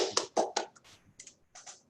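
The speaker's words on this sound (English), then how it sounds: "I'll give you a clap per se." A few hand claps from a small seminar audience after a talk, sparse and uneven, close and moderately loud with brief gaps between them.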